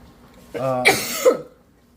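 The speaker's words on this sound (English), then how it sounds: "she's still coughing" A single short cough with a throaty edge, close and fairly loud, ending in a brief second burst.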